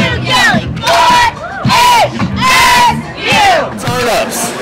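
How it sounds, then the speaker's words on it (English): A crowd at a university homecoming gathering cheers and yells in repeated loud, rising swells, each burst lasting about a second with short dips between, whoops and shouts standing out over the mass of voices. "Cheering."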